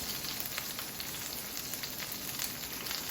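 A ribeye steak sears with oil in a hot cast iron pan, giving a steady, close, crackling sizzle with scattered pops throughout.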